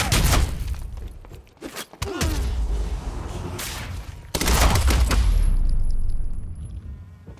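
Heavy gunfire in the Quantum Break video game: sharp shots and bursts crack out, glass shatters, and a sustained loud barrage with thuds and debris rattling dominates the scene.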